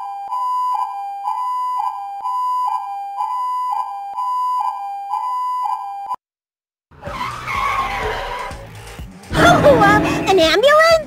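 An ambulance siren in the video game Danganronpa 2 repeats a steady two-tone wail for about six seconds, then cuts off, followed by loud, animated character voices and game sound effects.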